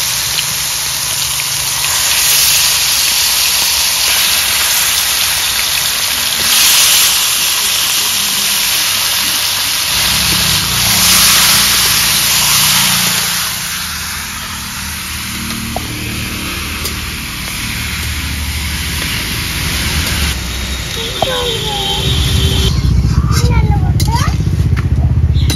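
Chicken meat fries in a pan with a loud, continuous hiss and crackle that runs throughout, swelling and settling as the pieces are moved, with a few clanks of utensils near the end.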